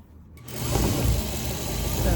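A sewing machine edge-stitches a rolled hem, starting after a brief quiet moment and settling into a steady, close, continuous motor hum and whir that holds to the end.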